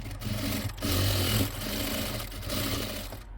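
A sewing machine stitches a half- or quarter-inch seam along the corner of a handmade fabric bag, its motor whirring steadily in close, loud bursts with brief pauses between runs.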